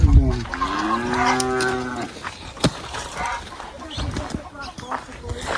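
A cow in a farm enclosure lets out a long, loud moo close by that falls in pitch as it goes on. Quieter shuffling and people talking follow.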